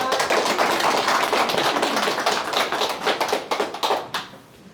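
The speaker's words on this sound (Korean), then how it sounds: "큰 박수로 화답해 주시기 바라겠습니다." Employees gathered for a company lecture at a Korean factory headquarters give a lively round of clapping, thick at first, then thinning into scattered individual claps before fading out.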